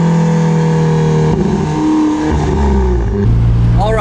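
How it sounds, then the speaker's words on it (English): An Alfa Romeo 4C Spider Italia, a turbocharged sports car, drives along with loud, steady engine drone and turbo whoosh. The pitch shifts as it changes load and gear, and a rising whistle comes near the end. "And again, the turbo noises."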